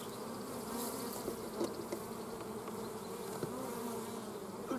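Honeybees buzz steadily around an open beehive during hive inspection, a dense continuous drone close by with no talk over it.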